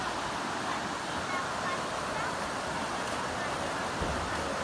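A wide mountain stream near Tú Lệ in Văn Chấn, Yên Bái, Vietnam rushes over rocks with a steady, dense roar that stays even and close throughout.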